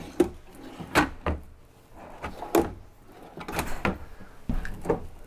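Storage drawers in a 2025 Rockwood Ultra Lite 2619FK travel trailer slide and bump shut, giving about half a dozen sharp wooden knocks spread irregularly and close at hand.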